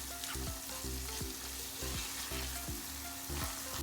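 Ginger frying for fried rice in a pan, a steady close sizzle broken by regular scraping stir strokes roughly every half second.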